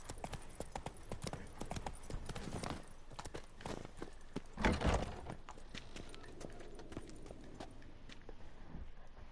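Horse hooves clip-clop steadily on the ground in the video game Witcher 3, a continuous walking rhythm at moderate distance with a brief louder thump midway and faint ambient game sounds around it.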